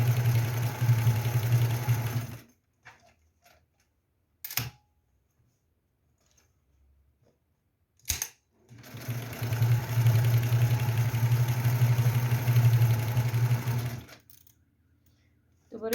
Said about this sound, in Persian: معمولا یه به علاوه با درجه ریز چرخمون میدوزیم که کف کارمون محکم باشه.